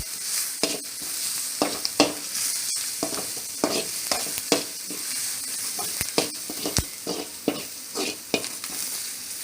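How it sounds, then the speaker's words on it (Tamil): Chilli chicken stir-fried with garam masala in a hot pan, a loud continuous sizzle broken by frequent scraping clacks of a spatula stirring at an uneven rhythm, close up, with no talking. "கொஞ்சம் கரம் மசாலா, நல்லா மிக்ஸ் பண்ணிக்கணும்."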